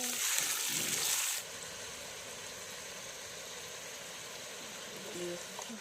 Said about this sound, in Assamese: আৰু গোটেইখিনি ভালকৈ লৰাই দিছে।